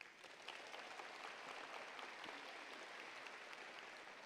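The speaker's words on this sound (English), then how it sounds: "so let's give them a round of applause." Graduation audience applauding teachers, staff and administrators at a high school ceremony; steady, dense clapping from a large crowd, sustained throughout at a moderate distance.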